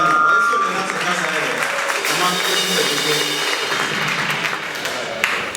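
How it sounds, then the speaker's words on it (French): A crowd at a live concert in a club applauds loudly and continuously, the clapping close and full with a murmur of voices mixed in, easing slightly before a last sharp clap. "Donc on peut applaudir pour cette dame."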